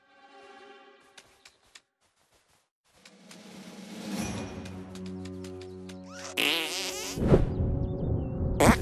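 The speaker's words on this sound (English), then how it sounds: "Did I just fart?" Cartoon fart sound effects from the video game South Park: The Stick of Truth: a few quiet buzzy blips, then longer, louder droning, flapping farts that build in intensity toward the end.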